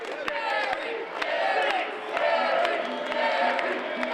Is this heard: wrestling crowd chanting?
yes